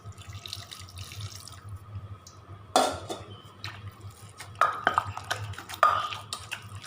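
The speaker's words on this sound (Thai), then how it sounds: "นำน้ำต้มไก่นะครับ ที่ต้มไว้ในหม้อเทลงครกสักเล็กน้อยนะครับ" Chicken broth poured into a mortar in a few short splashy bursts, with light clinks of a utensil against the vessel; no talking.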